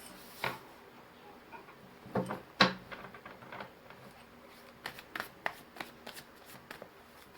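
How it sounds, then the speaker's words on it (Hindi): Tarot cards are shuffled and drawn at close range, soft papery riffles and slaps with a few sharper snaps of cards being laid down, scattered and quiet. "चार कार्ड्स निकालेंगे"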